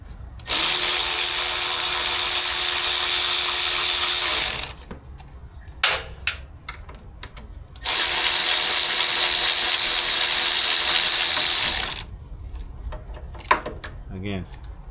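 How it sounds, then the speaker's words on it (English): A battery-powered ratchet cracks loose a fork bolt on a K4/K5 Suzuki GSX-R 600 motorcycle in a garage: two long, loud, steady whirring bursts of about four seconds each, separated by clicks and handling noise, with someone talking between them. "I'm able to crack it with the battery ratchet"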